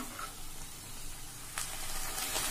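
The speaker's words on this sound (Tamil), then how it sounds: "கீரை கொஞ்சம் வேகட்டும்." Spinach greens cooking in a pan give a steady, soft sizzle throughout, with a few brighter hissing bursts near the end.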